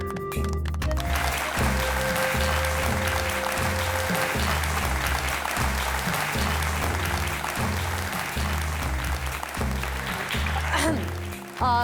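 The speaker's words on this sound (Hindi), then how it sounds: "तालियां।" Sustained audience applause fills a staged event in a Hindi web series, with steady clapping over a continuous music bed throughout, ending abruptly.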